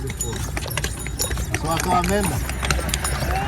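Horse hooves clip-clop near the Giza pyramids as a groom rides past on horseback, a steady clopping rhythm heard under ongoing talk and outdoor crowd noise.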